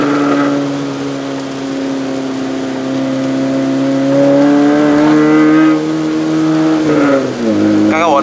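A 2005 Proton Satria 1.3 GLi SE with a five-speed manual accelerates on a wet road in the rain, its engine note climbing steadily and loud from inside the cabin, then dropping sharply near the end.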